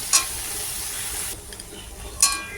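Tomatoes go into a hot frying pan and are stirred, producing a bright sizzle that fades after about a second, with two sharp scraping bursts at the start and near the end.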